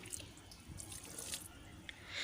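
Water trickles and drips as potted flower and vegetable plants are watered at home, a faint, uneven splashing of short spatters and drips close by.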